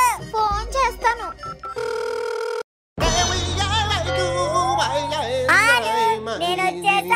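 A telephone gives a steady electronic tone for about a second as a call is placed, then cuts to brief silence before lively voices and music take over.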